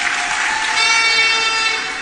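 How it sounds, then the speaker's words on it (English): Audience applause greeting a Member of Parliament and Minister of Labour at a public event, a dense sustained wash of clapping that swells slightly midway and holds steady, fairly close and loud. "give him a special round of applause"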